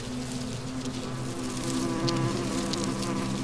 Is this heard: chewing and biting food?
no